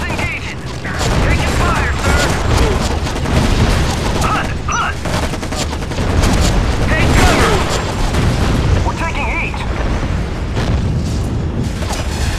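Gunfire in a firefight from the video game Act of War, with dense bursts of shots and booming impacts layered continuously throughout, while shouted voices come through under the shooting.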